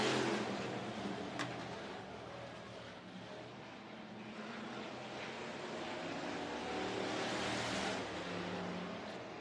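Bomber and modified race cars roar around the oval at Worthington Speedway, a continuous engine drone from a distance that swells and fades as the pack passes, with no commentary over it.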